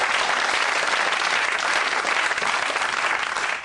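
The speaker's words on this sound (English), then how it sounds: "Some people clapping, quite a few looking very, very angry indeed." An audience at a comedy show claps, giving a dense, steady wash of applause that holds loud and even before tapering slightly at the end.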